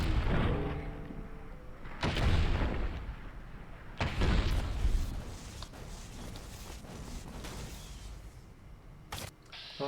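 Gunshots ring out in a modded Fallout New Vegas playthrough: a few sharp, loud, separate cracks spaced several seconds apart, each trailing off into a rumbling echo, with almost no talking.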